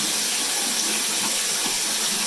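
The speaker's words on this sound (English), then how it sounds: "I'm just running some hot water over it" Hot tap water runs steadily over a kitten formula bottle, a continuous loud hissing rush with slight splashy variation throughout and no voices.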